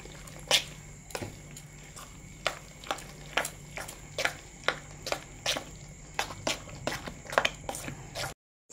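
A spoon stirs semolina dhokla batter mixed with Eno fruit salt in steady, regular strokes, each a soft wet tap, about fourteen in a row, close and clear.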